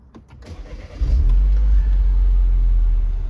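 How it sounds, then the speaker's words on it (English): A MINI Cooper S hatch with a 1.6 petrol engine starts up: brief cranking, then the engine catches with a loud low rumble and settles into a steady idle close by. "Starts up lovely."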